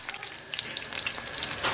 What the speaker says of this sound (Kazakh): Бәрін бірге салып қуырамыз.